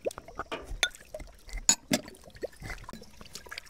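Washed dishes being rinsed under a running tap to clear off dish soap, heard close up as irregular splashes, drips and short pours of water with gaps between them.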